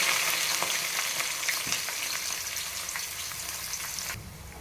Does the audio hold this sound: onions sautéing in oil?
yes